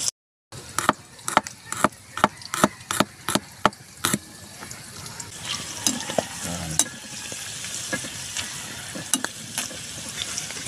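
Shellfish deep-frying in oil, a run of loud sharp clacks at the start as pieces go in, then a steady close bubbling sizzle with occasional knocks and faint voices underneath.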